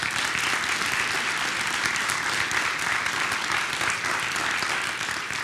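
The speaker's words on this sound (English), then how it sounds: "A round of applause for them, please." Sustained audience applause for a speaker panel at an evening public talk series, dense and even clapping from a full room that holds steady throughout and tails off slightly at the end, with no voices over it.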